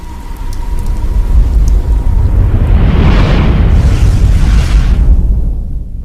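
Heavy rain pours steadily on a surface while a deep rumble of thunder swells and rolls through the middle before fading, a loud, close documentary storm effect with no voices.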